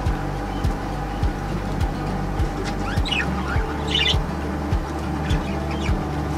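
Baby budgie chirps in short bursts in an aviary over a steady low hum and a rhythmic mechanical ticking, with brief high twittering calls near the middle.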